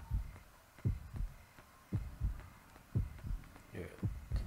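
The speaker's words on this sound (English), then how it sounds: "It sounds like a heartbeat or something, man. It must be a heartbeat." A steady, low, muffled heartbeat from the horror video game Yomawari: Night Alone pulses in repeated double thumps at a slow even pace, faint and close throughout.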